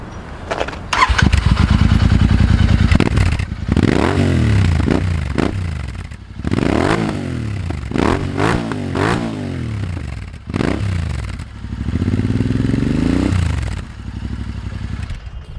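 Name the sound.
Interceptor 650 Powerage exhaust with dB killer installed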